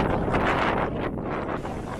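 Ferry crossing open sea between Queenscliff and Sorrento, with steady loud wind buffeting the microphone over a broad rushing wash of water and engine rumble, continuous throughout with no voices.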